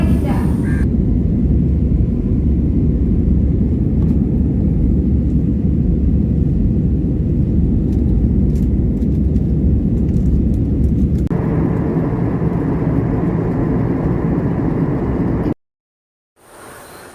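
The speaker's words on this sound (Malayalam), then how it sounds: "വിമാനം ഹനോയ് ഇൻ്റർനാഷണൽ എയർപോർട്ടിലേക്ക് അടുത്തുകൊണ്ടിരിക്കുകയാണ്" A loud, steady airplane cabin drone with a deep rumble during approach to Hanoi International Airport, shifting slightly in tone partway through before cutting off abruptly near the end.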